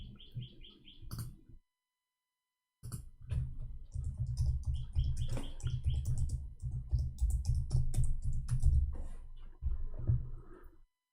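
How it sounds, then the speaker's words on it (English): Arabic text is being typed on a computer keyboard, a close, quiet run of rapid irregular clicks that stops briefly and then resumes, with faint bird chirps in the background. "I was typing in Arabic."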